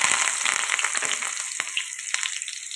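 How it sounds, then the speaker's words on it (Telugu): Curry leaves fry in hot oil, giving a dense, loud crackling sizzle with bursts of popping that ease slightly toward the end. "ఇప్పుడు వచ్చేసి కరివేపాకు ఫ్రై చేసుకున్నాం"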